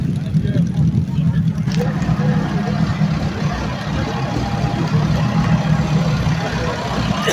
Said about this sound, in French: Black Phoenix est équipé de 2 moteurs de moto des GSR Suzuki et avec embrayage